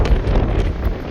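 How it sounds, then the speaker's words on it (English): Loud, rumbling wind buffets the microphone, a continuous low roar filling the short clip with no voices. "Apologize for that wind."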